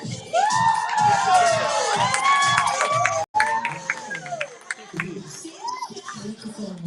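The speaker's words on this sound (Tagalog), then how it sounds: "please welcome and give a round of applause for contestant" Crowd cheering and shouting with whoops, including children's voices, welcoming a contestant at a Christmas gift-giving event held by a congressman; loud and sustained, with a brief dropout midway.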